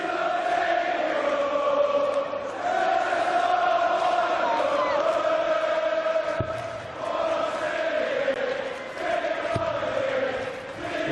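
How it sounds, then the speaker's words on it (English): A large crowd at a darts final in a Cardiff arena sings together in a sustained, loud chant that rises and falls, with a couple of sharp thuds cutting through. "But the crowd this weekend's been fantastic. The singing all today, all last night."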